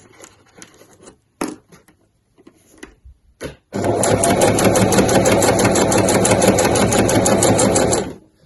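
Sparse knocks and short bursts give way to a sewing machine running a side seam on a weekender bag. The loud, continuous motor whir and rapid stitching start near the presser foot, hold steady for several seconds, then stop abruptly.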